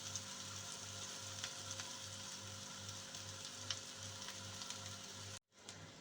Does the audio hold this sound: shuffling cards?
no